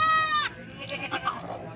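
A large goat at a livestock market in Pakistan lets out one loud, wavering bleat up close, followed by quieter background murmurs and brief bleat-like noises from the surrounding animals and people.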